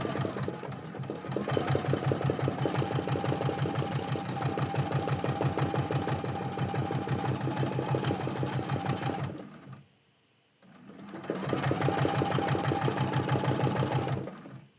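A sewing machine stitches quilt-as-you-go Christmas quilt pieces onto red fabric, running in a fast steady mechanical rattle, stopping briefly for a second, then resuming at the same pace, close and alone.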